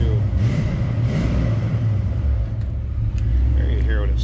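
A 1986 Chevrolet C10 pickup truck engine idles with a deep, steady rumble and briefly rises under light throttle, while someone talks over it.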